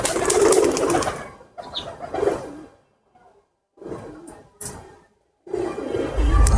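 Several pigeons in a loft where pairs are nesting, their cooing coming in irregular bursts separated by short silent gaps, close and fairly loud.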